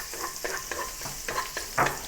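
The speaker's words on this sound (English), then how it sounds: "add some oil to the wok and fry the ginger and garlic" Ginger and chopped garlic fry in hot oil in a wok. A close, crackling sizzle runs throughout, broken by about seven quick scraping stirs, the last one louder than the rest.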